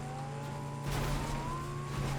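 A car in the Fortnite video game drives along with a steady engine hum and a rising tonal whine, plus a brief louder surge as it speeds up, heard alone without talk.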